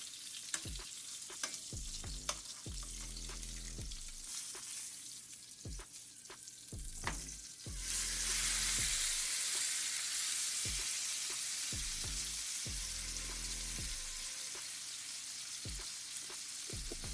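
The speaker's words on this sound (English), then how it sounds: "And we're going to sear all sides." A sous vide pork roast sears in a hot pan with a steady, loud sizzle that swells halfway through as it is pressed down, punctuated by repeated clanks and taps of utensils against the pan.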